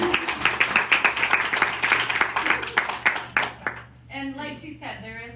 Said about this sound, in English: let's give her a big round of applause